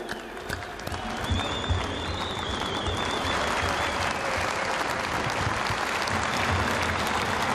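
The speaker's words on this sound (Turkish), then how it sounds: "Hepinizi tekrar alkışlıyorum." An audience at a Turkish party provincial congress, joined by video conference, breaks into applause after a short lead-in, and the clapping swells into a steady, dense crowd ovation that holds to the end.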